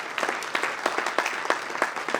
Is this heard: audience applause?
yes